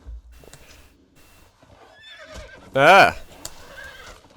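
In the video game Conan Exiles, a horse gives one loud, sharp whinny near the middle of the clip, with hoof clatter and a player's brief exclamation around it.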